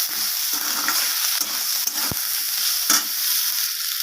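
Kochur loti, taro stolons, fry in a pan with a steady close sizzle, and a spoon stirs and scrapes through them a few times.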